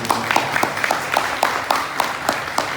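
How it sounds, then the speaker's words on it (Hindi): An audience at a Shrimad Bhagavat Katha gathering in Naimisharanya claps for the organizers, a rhythmic unison clapping with about ten evenly spaced beats, moderately loud and close, with a faint murmur of voices underneath. "इनके जोरदार ताली"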